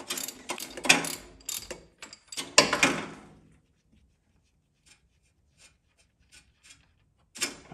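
Half-inch ratchet loosening a 24 mm transmission fill plug on a 2010 Toyota Tacoma, giving a burst of close metallic clicks and rattles over the first few seconds, then a few faint ticks and one final clatter.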